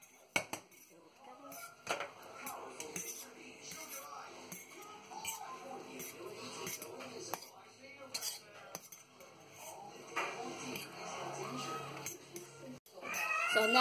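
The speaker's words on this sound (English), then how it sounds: "So you have to stir it all around and make it." Mi Goreng instant noodles with sauce stirred in a pot, with close metallic scraping and clinking of a utensil against the pot under quiet background talk.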